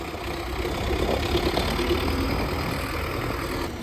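An MTZ-82 tractor engine idles steadily nearby, a loud continuous diesel rumble with a low knocking throb, even and unbroken, with no voices.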